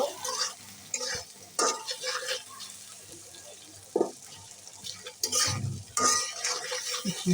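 Chopped onion going into hot oil in a pan, with intermittent stirring scrapes, clinks of a utensil against the pan and a soft sizzle underneath.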